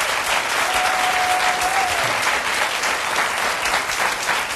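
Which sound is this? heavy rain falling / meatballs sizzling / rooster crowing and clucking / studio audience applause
studio audience applause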